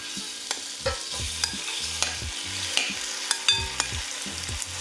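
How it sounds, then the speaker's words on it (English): Beef searing in avocado oil in a pan, a steady close sizzle broken by repeated clinks and scrapes of stirring, with no voices. "So now we're gonna go ahead and add our beef."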